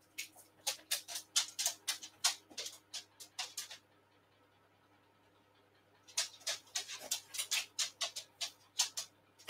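A dog coming back indoors pants in quick, rhythmic bursts close by, a few seconds of panting, a short pause, then another run of steady panting.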